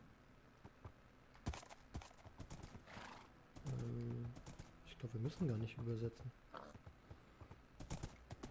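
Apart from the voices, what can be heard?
horse hooves and neighing in Minecraft video game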